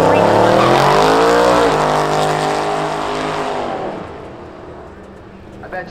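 A Camaro and a Crown Vic race at Hudson Speedway, loud engines roaring past with a falling pitch sweep as the cars pass and fade into the distance.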